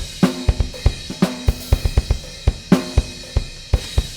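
A humanized MIDI drum beat plays alone, crisp kick and snare hits with ticking cymbals in a steady groove, with slight variations in loudness from hit to hit.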